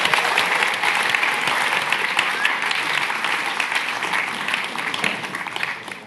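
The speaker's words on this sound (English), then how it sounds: "please join me in giving a round of applause to the panelists" Audience at a tech festival panel on AI and ethics applauds the panelists, a thick, sustained wall of clapping that fades slightly toward the end.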